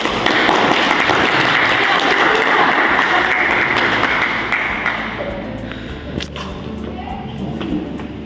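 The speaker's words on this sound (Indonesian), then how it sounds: "Berilah dulu tepuk tangan." A vocational high school classroom breaks into loud, dense applause from many students, steady at first and then tapering off into scattered claps and faint room noise.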